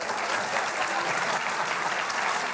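A studio audience at a television talk show breaks into loud, dense applause that holds evenly throughout, with no one speaking.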